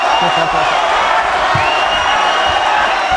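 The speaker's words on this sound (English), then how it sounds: "the chants of the crowd go up once more" A dense, loud arena crowd at the Miguel Cotto vs Yoshihiro Kamegai boxing fight roars and chants steadily for Cotto, with a commentator talking over it.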